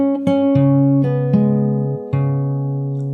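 A short fingerstyle acoustic guitar phrase from the chorus of a song, five or six plucked notes over sustained ringing strings, played clearly and alone, fading at the end.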